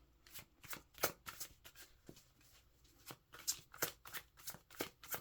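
Tarot cards being shuffled and drawn, a close, papery run of irregular riffles, slaps and flicks that comes in bursts with short pauses between them.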